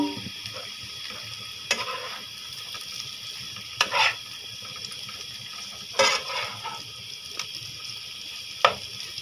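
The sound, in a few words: fried crab pieces sizzling with onion in a pan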